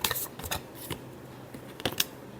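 A deck of tarot cards shuffled up close in a few quick, crisp bursts of riffling and slapping, separated by short pauses, with no talk.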